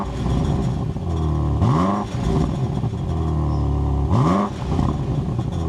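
A BMW M8 Competition Gran Coupe's exhaust roars loud and close through two revving pulls, each rising in pitch and then dropping back to a steady drone, with no talk.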